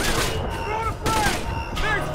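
Gunshots in Tom Clancy's Splinter Cell Conviction, a loud, busy stretch of firing blended with game effects and a continuous noisy background, shots close and overlapping without clear separation.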